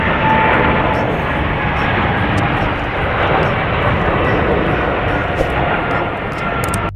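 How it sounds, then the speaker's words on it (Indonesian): A steady, loud roar of a passing airplane fills the whole stretch, broad and rumbling with no pauses. "Wadidaw ini pesawat terbang"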